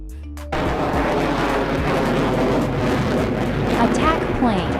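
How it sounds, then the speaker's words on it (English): An attack plane thunders past in a loud, sustained roar that begins abruptly after a short quieter moment, with a rumbling low end and a faint whistling sweep near the end. "Attack plane."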